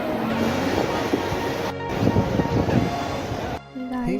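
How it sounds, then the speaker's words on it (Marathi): Sea waves surging in hard against the shore, a loud rushing wash with heavy wind buffeting the microphone, broken by a brief dropout partway through. "मागे बघू शकता तुम्ही समुद्राचं पाणी किती जोरात येतं."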